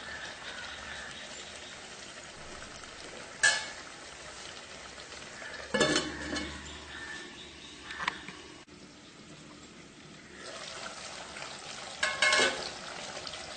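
Chicken sautéing in a pan for kuzhambu, a low steady sizzle with a few sharp clinks and stirring scrapes, close by and fairly quiet, with no talking.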